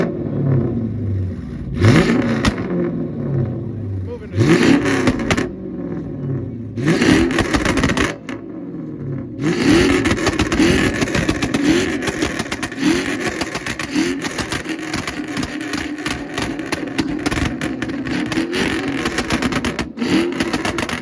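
A car engine revs hard at a car meet in repeated rising-and-falling bursts separated by short pauses, then holds a loud, sustained high-rev roar close to the microphone.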